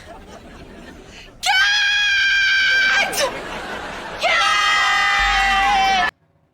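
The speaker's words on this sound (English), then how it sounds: "Everyone's screaming Cat right now." Piercing, high-pitched screaming erupts loudly in two long sustained bursts separated by a brief dip, then cuts off abruptly into quiet.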